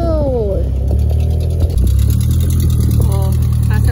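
A Volkswagen Kombi van's engine hums and accelerates at a low, steady rumble while climbing uphill, with people talking over it throughout.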